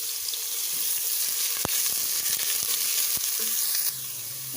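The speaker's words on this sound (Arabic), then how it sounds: "انا بشوح في البصلايه" Onion sautés in a little oil in a pan, giving a steady close sizzle with a few sharp clicks of utensil against metal; the hiss drops slightly toward the end.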